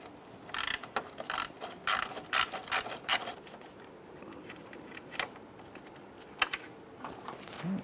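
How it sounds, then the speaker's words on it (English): A 10 millimeter bolt is worked loose on a Ram 1500 headlight support bracket, giving quiet bursts of rapid ratchet clicks in short uneven runs with pauses between them, close and fairly faint. "So we're going to go ahead and get to this 10 millimeter bolt right here. Just got to loosen and remove this one."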